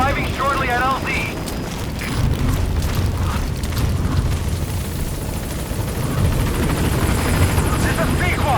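Pequod's helicopter in Metal Gear Solid V approaches the landing zone, a loud steady rotor and engine roar filling the scene with deep rumbling and broadband whine, mixed with game ambience and a radio voice speaking.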